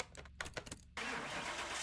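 A V8 engine swapped into a widebody Toyota Prius in Car Mechanic Simulator cranks in several quick starter pulses, then catches and settles into a steady, loud rumbling idle.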